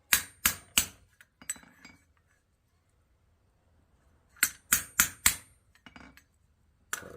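Hammer blows ring out on hot metal being forged into a shallow bowl for a candle holder, a quick cluster of three sharp metallic strikes, a pause, then another rapid burst of four or five, loud and close.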